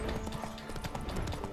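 Horse hooves clip-clop in a quick, steady gallop rhythm in The Witcher 3 video game, faint and continuous across a short stretch with no talk.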